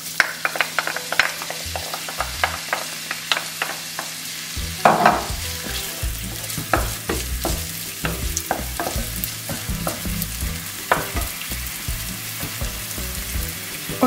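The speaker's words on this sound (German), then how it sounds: "Als erstes brate ich das Hackfleisch mit den Zwiebeln zusammen an." Minced meat and onions fry in olive oil in a pan with a steady sizzle, joined by repeated scraping and stirring clatter that grows busier after a loud addition partway through.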